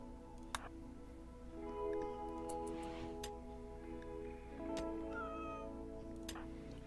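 A cat in the RimWorld video game meows in a few drawn-out, moderately faint calls over a steady low background hum, with occasional clicks and no speech.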